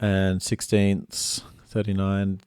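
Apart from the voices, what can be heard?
No everyday noise stands out behind the speech.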